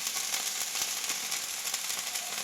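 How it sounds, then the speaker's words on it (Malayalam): Apple pancake batter frying in a hot pan, a soft continuous sizzle with faint crackles, steady and close, no voices. "നല്ല ചൂടായതുകൊണ്ട് ഞാൻ ഇതിലോട്ട് വെച്ച് ഒരെണ്ണം ആദ്യം ചുട്ടെടുക്കാമെന്ന് വിചാരിച്ചപ്പോൾ ഒരെണ്ണം ആഡ് ചെയ്ത് കൊടുക്കുകയാണ്."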